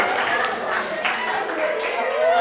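Classmates give a short burst of applause for a student during a lesson, the clapping mixed in under a teacher's talk and brief crowd noise.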